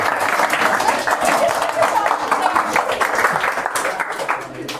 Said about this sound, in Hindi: बच्चे का ताली मारो